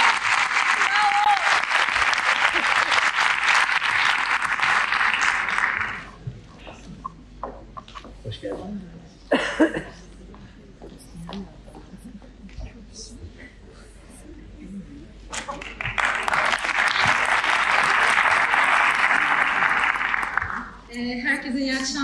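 An audience gives applause for an award presenter, a long, loud ovation that fades into a stretch of talk before a second full round of clapping swells up.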